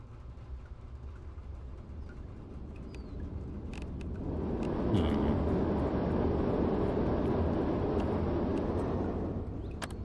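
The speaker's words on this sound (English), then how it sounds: "airplane's going over" An airplane in the zombie survival game Vein passes overhead, a broad rushing drone that swells from quiet to a loud, steady roar midway and holds, with faint clicks scattered on top.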